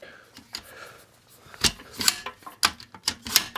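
Close mechanical clicking and ratcheting as the adjustment knob on a Pyle two-tier keyboard stand is tightened, a quiet start building into several sharp, uneven clacks.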